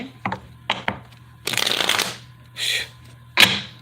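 Tarot cards being shuffled in short bursts at close range: several brief riffling and slapping sounds, with two longer papery shuffles in the middle, over a quiet background hum.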